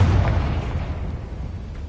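A Confringo spell explosion in the video game Hogwarts Legacy: a loud, low, rumbling blast that fades over a couple of seconds, heard alone with no talking.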